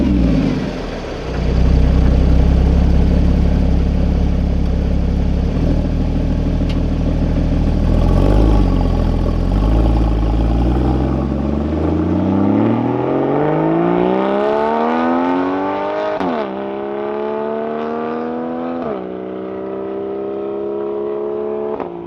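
Porsche 981 sports car engine roaring loudly on a winding mountain road, revving and climbing through gears with rising pitch sweeps and brief shifts, close and sustained with no talking.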